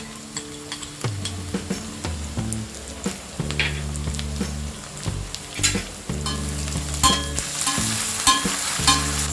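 Ginger garlic paste and chopped onion fry in a pan for aloo gobi, giving a continuous close sizzle with a spatula scraping and clicking at a steady, repeated rhythm.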